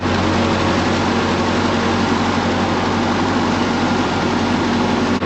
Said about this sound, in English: Before I put this tractor away, I want to get a few bales down off of the haystack